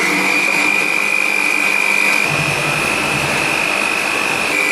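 An electric mixer whips egg whites into meringue for chocolate macarons, a loud steady motor whine with a high tone that holds throughout and deepens slightly midway as the speed rises.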